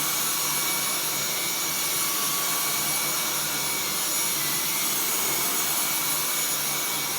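A Dyson V10 Total Clean cordless stick vacuum cleaner running steadily, a close, loud, constant high-pitched motor whine and airflow hiss with no breaks.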